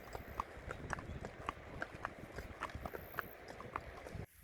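A horse ridden on a half-day trail ride in a Kyrgyzstan gorge clip-clops in a steady, even hoofbeat rhythm, moderately close over faint outdoor background, with no talking.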